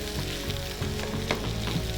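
Boiled potatoes being stirred into a spiced samosa filling in a hot pan, a short stretch of dense sizzling with soft scraping and mashing, no voices.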